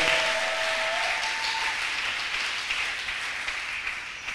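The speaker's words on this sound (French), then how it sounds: "Est-ce qu'on peut acclamer le roi des rois?" A church congregation claps and cheers to acclaim the Lord, a steady, dense wash of applause that holds loud throughout and fades only slightly toward the end.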